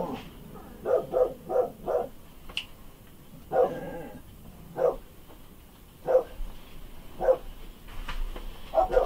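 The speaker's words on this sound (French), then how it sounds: "Excusez-moi, j'attends que mes chiens finissent d'aboyer." Dogs bark outdoors in the distance, with clusters of sharp barks in an irregular rhythm separated by pauses, muffled and moderately faint, and no talking.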